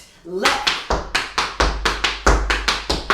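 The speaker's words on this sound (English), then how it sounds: "So Fred Astaire goes right, left, clap, right" Tap dance steps in a home practice routine, a rhythmic run of about a dozen sharp, close taps and a hand clap, evenly spaced and loud, with a brief voice at the very start.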